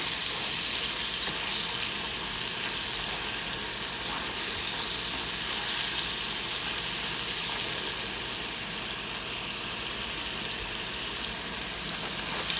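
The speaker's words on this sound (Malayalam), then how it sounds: "അപ്പോൾ അതുകൊണ്ടാണ് ഞാൻ ഈ ഡബിൾ ഫ്രൈ ചെയ്യുന്നതും കൂടെ ഒന്ന് കാണിക്കുന്നത്." Bite-size crispy chicken pieces sizzle and pop in hot oil during a second fry, a dense, steady crackle that continues evenly for over twelve seconds with no voices.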